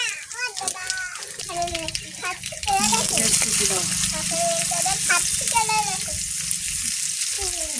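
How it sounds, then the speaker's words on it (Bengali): Ash gourd pieces fry in oil in a wok beside coconut, a hiss that rises and holds loud and steady from about a third of the way in, with a voice talking over it throughout. "কড়াইতে তেল দেবো নারকেলের পাশে তারপরে এতে কুমড়ো বসিয়ে দেবো"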